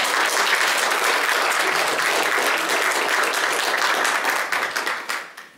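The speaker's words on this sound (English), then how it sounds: "Give them a good round of applause." A church audience gives loud, full applause for vacation Bible school students. The dense clapping holds steady for several seconds, then thins into scattered claps and fades out.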